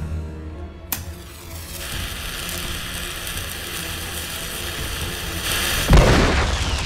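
Large Diwali firecracker bomb exploding outdoors: a sharp bang, then a long loud crackling sizzle with a heavier burst near the end, close and without talk.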